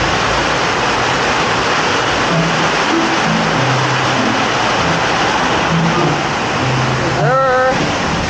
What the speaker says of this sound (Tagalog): Bigo na naman sa ulan.